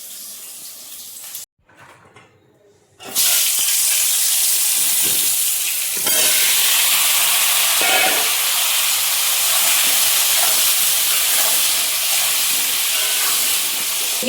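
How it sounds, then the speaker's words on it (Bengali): Eggplant slices frying in a pan give off a loud, steady broadband sizzle. It starts after a brief quiet gap and then hisses on continuously without letting up. "চলো বেগুন ভাজাটা হোক"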